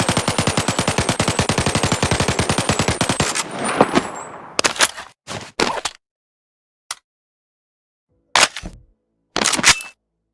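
Rapid automatic fire from an SA-87 bullpup rifle in the Boneworks VR game, a fast even burst of close sharp shots for about three seconds, followed by scattered clicks and handling clatter with silent gaps.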